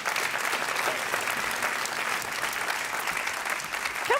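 Sustained applause from a crowd, steady dense clapping throughout with no pauses, fairly loud and close.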